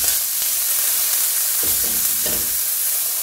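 Garlic frying in a pan for a coconut sauce, a bright, steady sizzle with a few short scraping stirs near the end, close and clear with nobody talking.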